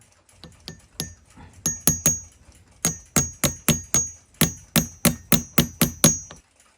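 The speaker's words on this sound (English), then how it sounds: "This punch will roll the rivet over onto the balance wheel hub." Metal punch tapping a rivet onto the balance wheel hub of a Seikosha ship's clock movement, heard as a run of sharp, close, ringing metallic taps that speed into a steady rhythm with brief pauses between groups.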